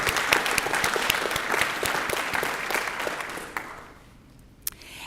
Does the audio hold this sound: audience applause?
yes